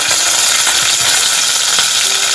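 Mustard seeds, cumin, urad dal and curry leaves tempering in hot oil for a rice kanji, giving a loud, continuous crackling sizzle with no voices over it.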